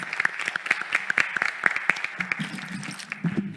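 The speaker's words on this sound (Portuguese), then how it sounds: "eu acho que nós temos que fazer uma salva de palmas" An audience at a medical conference session claps, sharp individual hand claps scattered over a few seconds, thinning out near the end with a voice faintly underneath.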